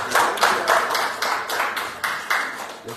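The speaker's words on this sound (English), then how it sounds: "We want to applaud you for coming out today and doing" Audience clapping at a sanitation workers meeting in Rocky Mount, a small group's claps landing in a loose, regular rhythm of roughly three per second, fairly close and moderately loud.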